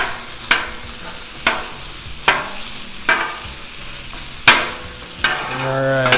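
Fatty chorizo sizzling on a Blackstone flat-top griddle while a metal spatula chops and scrapes it, sharp regular clacks about once a second over a steady frying hiss.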